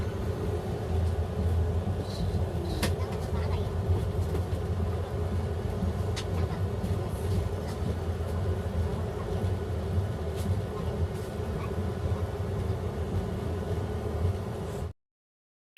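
Interior of the Bardhaman–Agartala Kanchanjungha Express rolling through Assam near Lumding in the morning: a steady low rumble and hum of the moving carriage with faint scattered clicks, continuous throughout, then cutting off at the end.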